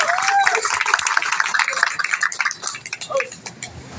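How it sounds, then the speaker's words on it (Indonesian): Scattered audience clapping at a campaign volunteer gathering, uneven and moderately loud, mixed with voices and cheering that fade toward the end. "Tepuk tangan yang meriah buat Bapak Eko Berneo."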